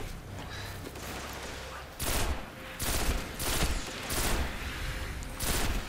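Gunfire in Destiny, several loud bursts of shots spaced about a second apart after a quieter opening, each burst short and punchy, with no one talking.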